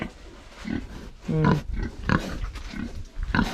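A pig grunts and snorts several times in short, close bursts, with a rougher squealing grunt in the middle.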